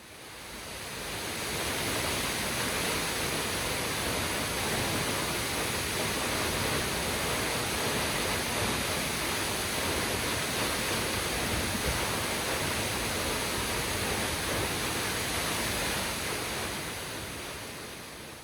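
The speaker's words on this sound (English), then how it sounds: "I'm really excited to see this waterfall up close" Steady, dense roar of La Fortuna waterfall in Costa Rica, a broad continuous rush of falling water that swells in over the first couple of seconds and holds constant, with no voices.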